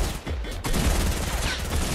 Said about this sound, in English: Is there someone shooting at us?